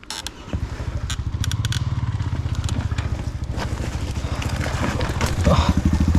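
A motorcycle engine runs steadily at low idle with a pulsing rhythm, recorded close up on a deep, waterlogged trail at Khao Mai Kaeo, with the gear stuck. Clattering knocks sound over it, and the engine note rises near the end.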